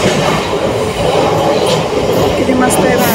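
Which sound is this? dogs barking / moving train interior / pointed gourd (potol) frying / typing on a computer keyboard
moving train interior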